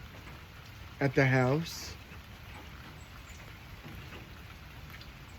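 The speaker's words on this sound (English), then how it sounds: "it's finally, it's finally raining here" Steady rain falls outside a house in Georgia, a constant soft hiss of drops that runs the whole time. Someone speaks briefly near the start.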